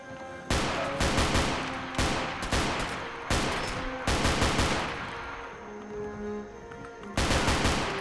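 Gunfire in Fallout 4 during a survival-mode building clear: a string of loud, close shots in uneven bursts, each with a sharp crack and a short decaying tail, a brief lull with a low hum, then another heavy burst.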